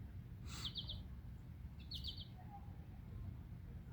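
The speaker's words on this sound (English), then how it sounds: "at the mansion, you hear the birds" Two short bursts of bird chirps ring out outdoors on the grounds of a mansion, brief and fairly faint against a steady low background hum.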